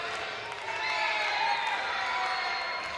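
Crowd at a professional wrestling event cheering and shouting in support of a wrestler, a steady dense roar of voices that swells slightly partway through and holds at a moderate distance.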